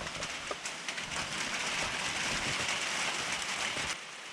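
Steady rain falls outside around a flower farm barn and barnyard, a dense even hiss that holds for several seconds with a few louder patters, then eases slightly near the end; no talking.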